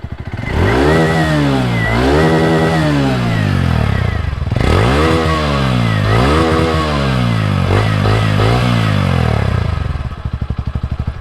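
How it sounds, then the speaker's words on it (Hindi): A TVS Radeon BS6 commuter motorcycle idles and revs repeatedly, its exhaust note rising and falling in several loud, close throttle blips with no talking. "अब एक काम करते हैं, इसका एग्जॉस्ट नोट सुन लेते हैं,"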